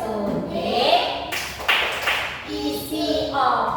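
Children clapping along in the 'tepuk dokter gigi' clapping game, a few quick claps and taps heard close by amid an adult's chanting voice.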